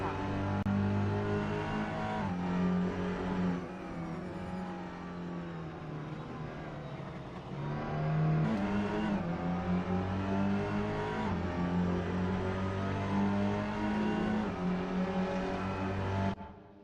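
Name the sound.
touring car racing past in a sim racing video game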